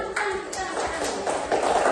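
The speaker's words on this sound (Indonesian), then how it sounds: "Oke, baik, tepuk tangan." Children clap their hands in a classroom, a modest, uneven patter of claps that continues steadily over low room chatter.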